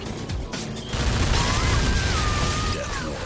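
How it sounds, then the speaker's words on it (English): Mega guns firing in the vehicular combat game Twisted Metal, a dense continuous rattle of rapid shots amid engine and battle noise, loud and steady throughout with whistling tones sweeping over it. "Mega guns."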